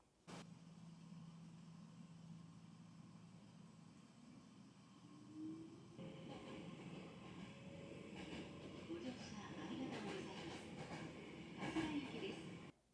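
A small train in Kyoto, Japan rolls along with a low rumbling hum that builds as it gathers speed, rattling clatter joining after a few seconds, heard from inside the car with faint voices nearby.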